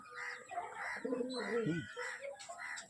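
A flying pigeon in a loft gives a low, wavering coo at close range, joined by other faint bird calls and soft chatter around it.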